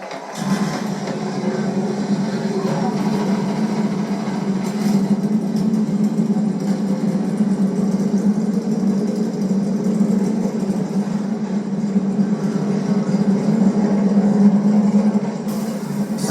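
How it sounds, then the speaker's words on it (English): NASCAR Cup Series stock car engines at Daytona rumble in a steady, loud, continuous idle that holds evenly for the whole stretch, with no voices over it. "Drivers, start your engines!"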